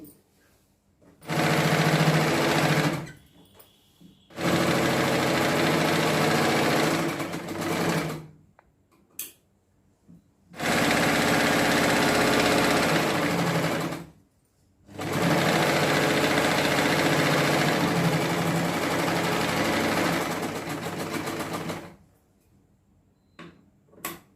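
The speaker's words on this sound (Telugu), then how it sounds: "వీటికి పైన స్టిచ్ వేసేయండి" A sewing machine top-stitches a patiala salwar in four long, loud, close bursts of rapid even stitching, separated by short pauses and faint handling sounds.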